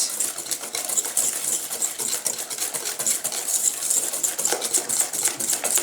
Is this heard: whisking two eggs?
yes